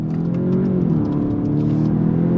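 A 2025 VW Jetta GLI sport sedan pulls hard under steady acceleration in first gear, a continuous loud droning whir with rising harmonics, close and without any talking.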